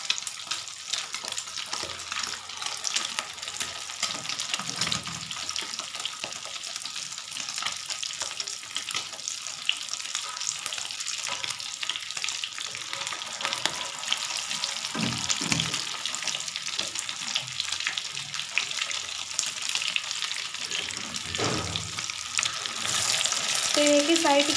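Potato aloo tikki patties shallow-frying in hot oil give a steady, close sizzle and crackle that runs unbroken throughout, with a few faint clinks and no speech.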